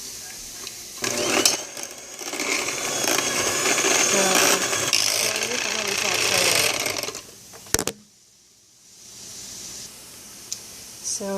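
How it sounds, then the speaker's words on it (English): An electric hand mixer whirs continuously for several seconds through mashed potatoes with sour cream, butter and salt, its motor pitch wavering as the beaters churn, then cuts off abruptly, followed by a sharp clatter and a quiet pause. "And then we use a regular mixer and mix it."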